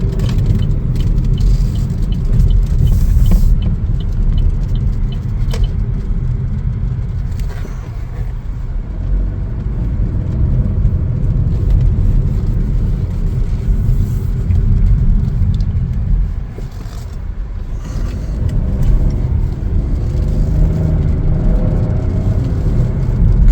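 A Chevrolet Trax Activ drives and accelerates, its engine a steady close rumble with tyre and road noise rising and easing through the run, and no voices heard.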